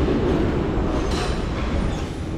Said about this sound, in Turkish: geldi tren